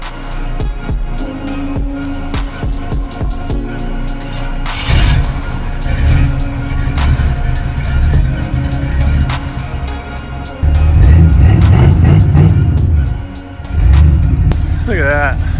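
A Ford Galaxie rumbles nearby as it is driven around, its engine droning and revving louder in the later stretch, with people talking over it and some clanks in the background.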